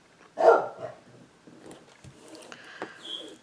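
A dog barks during a storm: one loud, close bark opens, followed by fainter, scattered yips and whimpers.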